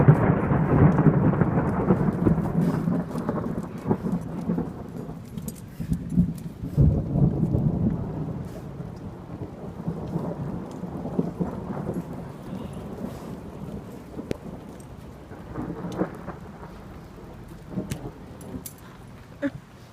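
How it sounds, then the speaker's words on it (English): A thunderstorm in California: low rolling thunder rumbles over steady rain falling, with heavier bursts of rumble near the start and softer patter later. "It was a giant crack of lightning right there."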